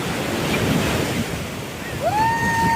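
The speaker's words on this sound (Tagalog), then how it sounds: "Lalaki ng alon, oh." Big ocean waves breaking on a beach in La Union, a steady loud roar of surf and wind noise against the microphone, with a faint high whistle-like tone near the end.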